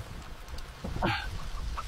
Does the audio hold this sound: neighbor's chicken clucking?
yes